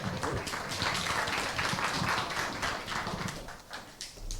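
An audience at a breakfast classical music forum on Mozart claps steadily to welcome a lecturer, a dense patter of applause that thins and trails off toward the end.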